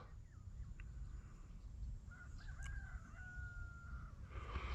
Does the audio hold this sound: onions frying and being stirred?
no